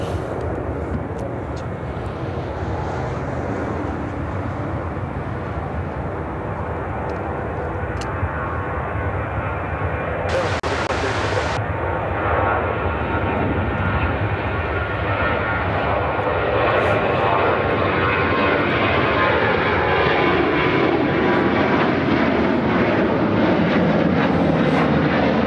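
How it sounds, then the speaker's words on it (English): An American Airlines Boeing 737-800 jet takes off, a loud continuous engine roar that builds and swells over many seconds, with a brief burst of hiss partway through. "American Airlines 299 taking off to Boston on the 737-800"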